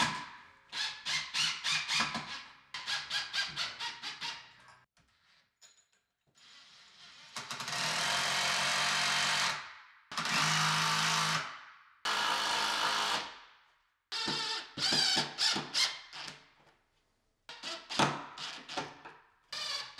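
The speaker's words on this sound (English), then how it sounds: "when screwing in all these bolts and screws," A power tool drives bolts and screws into a black-painted rebar and wood stair hand rail, in repeated bursts of whirring and rattling with short pauses between, close up and without speech.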